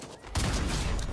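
SMG fired in a Fortnite match: a sustained rapid burst of gunfire starts abruptly after a brief quieter moment and continues loud and dense to the end.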